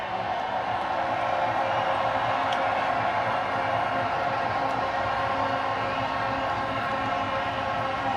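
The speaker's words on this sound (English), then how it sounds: "Round of applause one more time for Rohit Sharma and his men." Stadium crowd at the T20 World Cup final applauding India's team after the win, a steady, dense roar of cheering and clapping that holds at an even level throughout.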